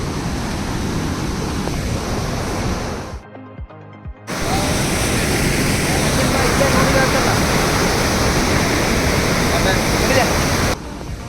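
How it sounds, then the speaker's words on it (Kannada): Water of the Kumudvathi river rushes steadily near Anjanapura dam, a loud continuous roar that briefly dips in the middle before returning at full strength. "ಅದೇ ಕುಮುದತಿ ನದಿ ಹಂಗೆ ಹರ್ಕೊಂಡು ಬಂದು ಈ ಜಾಗಕ್ಕೆ ಬರುತ್ತೆ"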